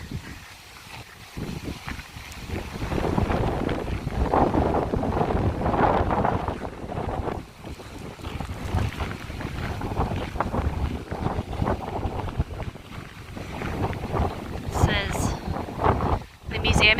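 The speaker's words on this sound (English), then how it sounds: "You can probably tell it's really windy." Heavy wind buffets the microphone in rumbling gusts throughout at German bunkers on a battlefield, with a voice talking faintly underneath.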